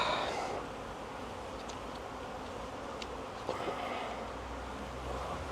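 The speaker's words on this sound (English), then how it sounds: "We do have a large number of bees in this hive." A large number of bees buzz inside a crowded hive holding an unemerged queen cell, a faint, steady, low drone throughout with no voices.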